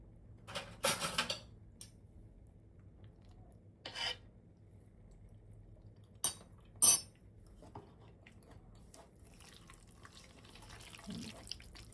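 A spoon clinks and scrapes against a pot of chicken and dumplings in a few short, separate bursts, with quiet pauses and a faint kitchen hum between them.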